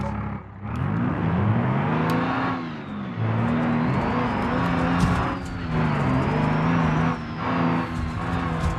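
A bus engine in the BeamNG driving game revs hard and holds high RPM on a hillclimb, a loud continuous drone whose pitch rises, dips and climbs again, with tyre noise underneath.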